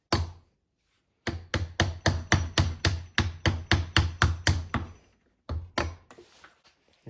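Metal hammer blows driving a small factory-made wedge out of a hammer head in a workshop, about twenty sharp close strikes in a steady fast rhythm, a brief pause, then a few more lighter taps.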